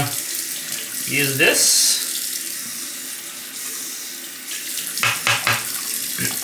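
Tap water runs steadily into a sink as a knife blade is rinsed after honing on Shapton whetstones, with a few clinks and splashes and a brief spoken word.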